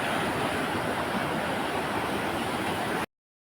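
Sea waves roll in at high tide on a beach where a river meets the ocean, a steady broad roar of surf filling the scene without pause until it stops suddenly.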